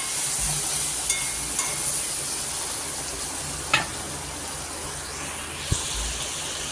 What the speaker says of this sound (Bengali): আর মশলা এখানে কষানো হয়ে যাচ্ছে, আলু আছে আর মশলা দিয়ে দিয়েছি সমস্ত